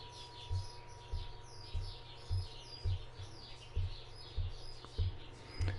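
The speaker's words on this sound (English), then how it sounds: "Oh, if you're hearing birds" Small birds chirp and tweet continuously in the background, quick high calls layered over a regular low thumping pulse, moderately faint and with no talking.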